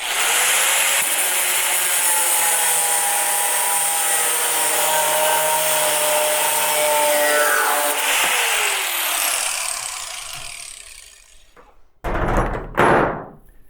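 An angle cutoff saw grinds through a steel carriage bolt clamped in a bench vise, a loud continuous high whining cut that holds steady, then winds down as the disc spins to a stop, followed by a couple of short clunks.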